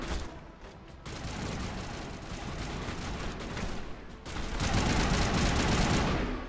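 Gunfire in the Mass Effect battle on Virmire, with a sniper among the shooters: dense, sustained rattling shots that swell louder and heavier in the second half.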